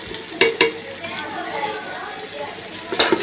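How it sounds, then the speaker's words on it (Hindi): Dry spices including salt, garam masala and black pepper fry with onion and ginger garlic paste for a mutton pulao, a steady close sizzle with a few sharp spoon clinks against the pot. "मसाले हमारे फ्राई हो गए हैं।"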